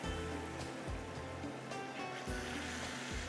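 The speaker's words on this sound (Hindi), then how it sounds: "चलें, काफ़ी सारी ये यखनी चलेगी इसके अंदर।" A generous amount of yakhni stock pours over rice for pulao, a steady close splashing gush with no talk.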